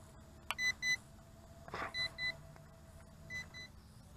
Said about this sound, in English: Rises up. Oh, double beeps.